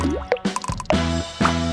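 Food coloring dripping into gelatine and water in a bowl, a series of distinct plopping, resonant drips at irregular intervals, close and clear with nothing else over them.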